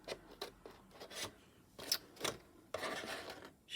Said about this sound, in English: Should I use some bigger scissors?